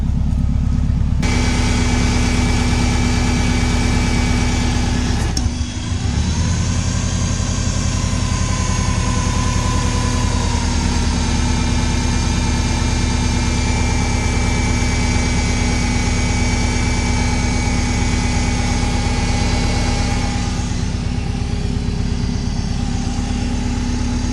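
A turbocharged Subaru engine drones at idle on first start with no sensors connected, a low constant rumble with a faint higher whine, no voices.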